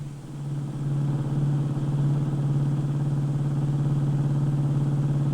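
A 1950s car driving along a road to town gives a steady, low engine hum that swells in over the first second and then holds a constant, smooth drone, with no voices.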